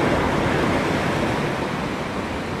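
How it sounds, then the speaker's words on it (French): Large sea waves breaking on the shore at night during shore fishing with lures form a loud, continuous, roaring wash of surf with no pauses. "Les grosses vagues."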